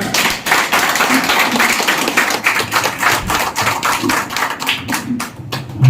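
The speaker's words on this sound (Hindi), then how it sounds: "आप लोग जोर से ताली लगाए।" A crowd at an outdoor village campaign rally in Samastipur, Bihar, claps loudly and steadily for about six seconds, dense overlapping hand claps close to the microphone with no talk over them.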